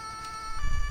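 A steady electronic police car siren tone holds throughout, with a low engine rumble rising toward the end.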